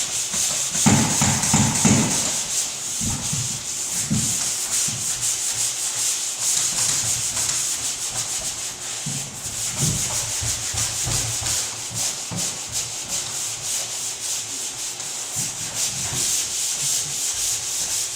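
Steady hand sanding of drywall joint compound on butt joints, a continuous raspy scraping that runs the whole time in repeated back-and-forth strokes, close and fairly loud, with no talking.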